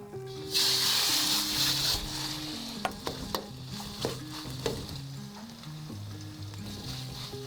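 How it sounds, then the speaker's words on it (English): Ground pork browning in hot oil in a wok, a loud steady sizzle that surges early, then sharp clacks of a spatula against the pan punctuating continuous frying, with low background music underneath. "I've got 2 to 3 tablespoons of oil heated up in the wok so we can brown this ground pork"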